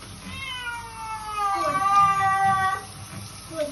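A cat meows and wails repeatedly while being bathed in a tub, its drawn-out, rising and falling cries fairly close over faint splashing.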